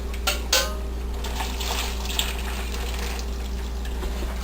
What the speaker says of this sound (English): Now using a slotted spoon, you're going to hold the pasta in the pot and drain the water so that you don't lose any of the pasta.